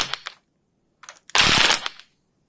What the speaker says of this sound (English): I've got the impact gun out,